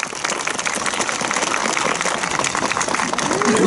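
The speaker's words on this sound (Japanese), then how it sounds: "大きな拍手をお送りください。" A crowd at a ceremony at Nagoya Castle applauds, dense clapping that holds steady and swells slightly toward the end, with no talking over it.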